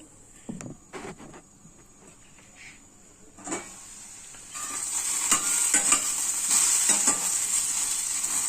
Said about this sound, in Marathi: भेंडी चांगली मिक्स करून कमी आचेवर तिला 2-4 मिनिटं परतवून घेऊ.